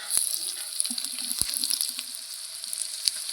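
Onion, garlic and ginger roast in a hot pot for a traditional Konkan dish, giving a steady soft sizzle with a few sharp clicks and stirring knocks, close and moderately loud, with no talk.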